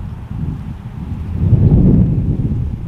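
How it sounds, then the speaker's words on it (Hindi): Wind gusts under a tree in a forest at night, a loud, low rumbling roar with rustling that swells and stays strong as it goes on. "ये हवा चलने लग गई है इस पेड़ के नीचे आते ही"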